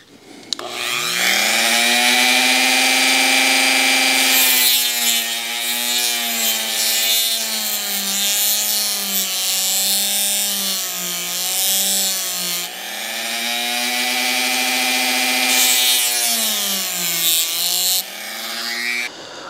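A power sanding tool works the leading edge of an EDF MiG-15 model wing, giving a steady close-up whine with a wavering pitch that runs almost unbroken throughout and has no talking.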